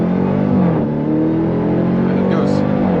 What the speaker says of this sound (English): You take your left foot and apply full throttle.